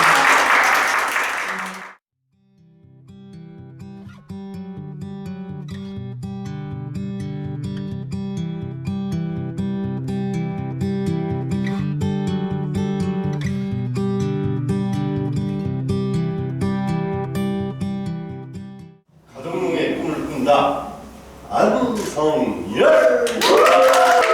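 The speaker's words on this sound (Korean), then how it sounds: "교수님한테 정말 박수를 보내드립니다" An audience at a student work presentation gives a short burst of applause, then music plays for a long stretch. Clapping and crowd noise return at the end, mixed with voices.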